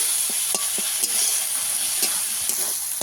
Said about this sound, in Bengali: আদা ভালো করে একটু কষিয়ে নেব মশলাটা একটু টাইম নিয়ে কষিয়ে নেবো